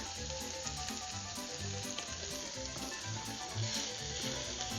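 Bacon, onions, sausage and garlic sizzle and crackle steadily in a smoking-hot pan, a dense, continuous frying hiss with faint stirring clatter and a low hum beneath, no talking.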